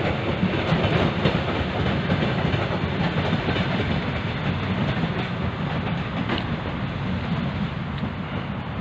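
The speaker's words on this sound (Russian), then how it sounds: "Электричка, сейчас засниму." An electric commuter train rolls past close by, a steady loud rumble and wheel clatter carrying through without a break and with no one speaking.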